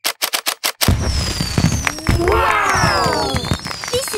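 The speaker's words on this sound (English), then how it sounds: "What a lovely firework display." Cartoon fireworks for Chinese New Year whistle upward and pop in quick bursts, following sharp rapid crackles at the start, while a character speaks excitedly.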